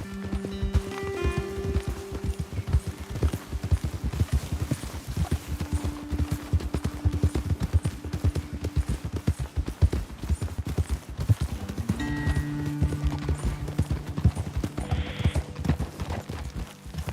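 Horses' hooves clip-clopping at a steady walking rhythm in the Western video game Red Dead Redemption 2, close and continuous, with sustained music tones underneath.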